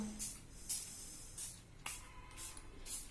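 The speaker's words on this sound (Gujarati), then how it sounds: "આખા બ્લેન્કેટમાં તમે જોઈ શકો છો આ રીતે સ્પ્રે કરી દેવાનો" A spray bottle mists rose water and vinegar onto a blanket in about six quick, faint hissing squirts at a steady rhythm.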